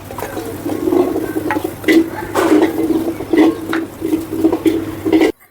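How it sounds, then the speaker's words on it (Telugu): Sliced onions and green chillies fry in oil in a pan, a continuous close sizzle with soft crackles and occasional stirring scrapes, then stopping at the end. "ఈ పచ్చిమిర్చి ఆనియన్స్ మంచిగా ఫ్రై చేసుకుందాం"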